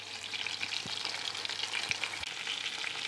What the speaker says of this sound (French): Je les fais rôtir l'épaule deux fois, les deux côtés